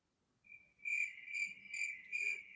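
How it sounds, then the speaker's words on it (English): Crickets chirp as a played sound effect, a steady high trill that pulses in regular bursts, clear and alone against near silence. "We got to play the Crickets for a reason, Grant."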